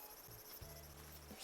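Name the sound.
cicada chirping in the Animal Crossing video game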